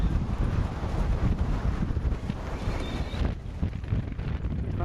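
Gusty wind pounds the microphone outdoors in Strömstad, Sweden, a continuous loud rumbling roar that surges and eases without pause.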